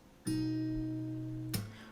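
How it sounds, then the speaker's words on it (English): A single low note plucked on the fifth string of an acoustic guitar rings steadily for over a second before another pluck sounds, close and clean, no voices. "we're going to be plucking the 5th string."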